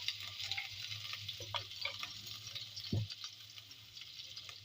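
Garlic-ginger paste sizzles and crackles in a hot pan, with a steady fry hiss and occasional scrapes of a spoon stirring, close up and fairly quiet.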